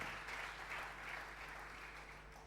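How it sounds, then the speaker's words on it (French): A church congregation claps together in steady, sustained applause during a bilingual French and English sermon, a dense wash of hands heard close and continuous throughout. "Put your hand together."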